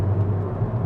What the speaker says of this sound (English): even in 5th gear now, I put my foot down, the turbo spool pulls up, and you do get a bit of grunt